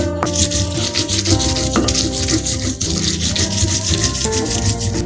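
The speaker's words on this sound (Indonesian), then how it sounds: "awal-awal kita ulek dulu cabai rawitnya" A stone mortar and pestle grinds bird's eye chilies to a coarse texture, giving a steady, close rubbing and scraping that runs without pause over a faint tonal background.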